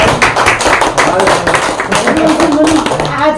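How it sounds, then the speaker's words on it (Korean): Audience applause at a lecture hall talk, a dense burst of many hands clapping steadily for a few seconds, mixed with some overlapping voices. "다 함께 박수 한번 쳐줍시다."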